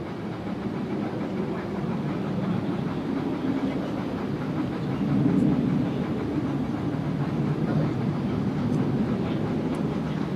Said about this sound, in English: the aircraft will break off towards left, and very shortly they will be followed by 2 more aircraft to take on remaining targets